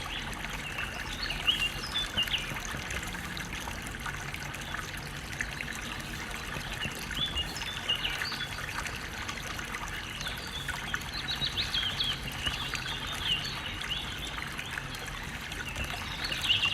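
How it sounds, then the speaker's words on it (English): Synthetic birdsong chirps faintly over a steady trickle of running water, making a soft, continuous ambience with no talking. "Actually, I like these fake birds."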